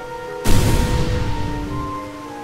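Rain in the Yu-Gi-Oh Capsule Monsters Coliseum game, a sudden wash of hissing noise that starts abruptly and gradually fades, over a faint steady tonal background.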